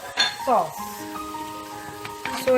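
Chicken frying on high flame with black pepper, crushed red chilli, chicken powder, salt and soy sauce, a soft sizzle with utensil clinks, while someone talks over it.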